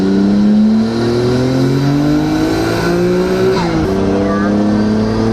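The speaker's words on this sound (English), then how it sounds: "You do have to rev it up to get the power out of it." A GT-R engine swapped into a four-door sedan, fitted with aftermarket camshafts, revs hard and pulls loudly through rising gears, with a brief shift dip near the end and speech mixed underneath.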